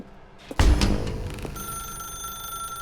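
An old telephone ringing inside a dark room in The Stanley Parable, a loud burst of bright bell-like ringing that fades into a sustained high electronic tone, with no talking.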